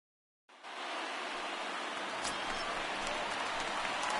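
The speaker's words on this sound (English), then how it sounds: "Rain falling." Steady rain falls in a broad, even hiss, starting abruptly and continuing without pause, with a few faint drips and taps sounding closer over the wash.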